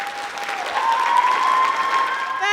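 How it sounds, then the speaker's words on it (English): Applause for a student named Amar at a districtwide school Black History Month assembly: a dense, steady round of clapping from a large crowd that swells slightly midway and holds to the end, with faint whistle-like tones above. "Let's give Amar one more hand clap"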